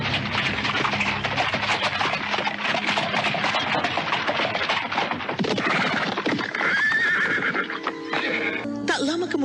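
Horse hooves clip-clop with a horse-drawn carriage rattle arriving at an old house's gate, and a horse whinnies loudly near the end, with voices talking over the busy scene.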